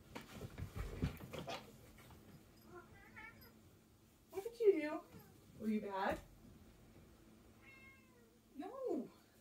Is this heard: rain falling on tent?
no